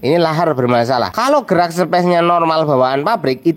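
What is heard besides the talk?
No distinct noise like a dog, phone or traffic.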